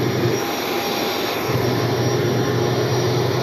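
A Cirrus jet in the X-Plane 12 flight simulator roars through takeoff, a steady loud engine hum and whine holding constant without a break, with no talking.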